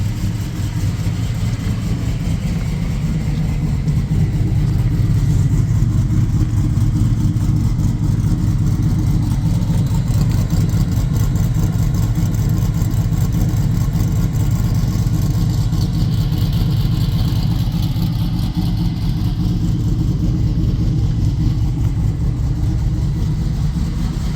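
Cadillac CTS-V engine with a MagnaFlow muffler running steadily, a loud, close, deep idle rumble that holds even throughout with slight variation and no talk.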